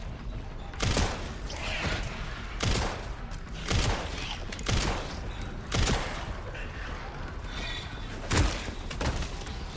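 Pistol gunfire in a survival horror video game with Leon: about six sharp, loud shots spaced a second or two apart, each a hard crack over low background rumble and clatter.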